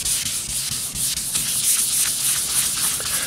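Wet sandpaper rubbing over the orange-peel paint of a 1977 Camaro Z28, a steady close scratchy swishing with no pauses and no talk.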